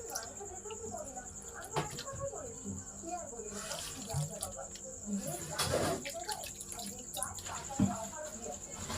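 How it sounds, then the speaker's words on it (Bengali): Water poured into a bowl of arrowroot spice mix with chaat masala, salt and black pepper powder for a paneer masala fry, a soft splashing trickle with faint clinks, fairly quiet and steady throughout. "এবার কিন্তু আমি দিয়ে দেবো জল।"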